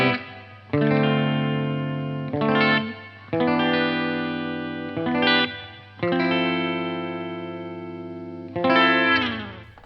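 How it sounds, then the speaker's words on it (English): Fender Telecaster Pro in butterscotch blackguard finish, played on the bridge pickup through a Blackstar amp set for moderate overdrive with reverb: loud, sustained chords ringing out in several strummed phrases, each decaying before the next attack. "playing through the Blackstar with the controls set for a moderate overdrive tone with reverb"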